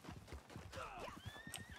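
A horse in a multiplayer western-style video game clip-clops along and lets out a rising whinny partway through, fairly close and clear over a rhythmic hoof pattern.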